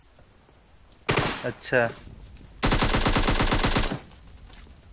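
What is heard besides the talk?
gunfire killing enemies in PUBG Mobile video game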